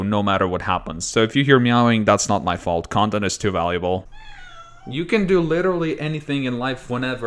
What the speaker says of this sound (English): you decide to just meow in front of my door